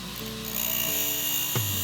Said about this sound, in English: After cutting the jumper, I once again sharpen the cutting edges.